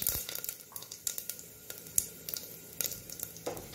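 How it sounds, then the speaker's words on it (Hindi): Whole garam masala with cardamom, black cardamom, cloves, cinnamon and a pinch of asafoetida crackles in hot tempering oil, a soft close sizzle with scattered sharp pops and crackles, fairly faint, with no talking. "खड़े गरम मसाले भी हम इसी तड़के में ही डाल देंगे"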